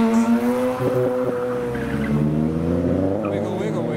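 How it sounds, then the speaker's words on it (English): Departing car meet with a white Toyota Chaser pulling away, its engine note rising in pitch as it accelerates, with other traffic noise and a voice talking over it. "Oh my god, there's a white chaser coming up."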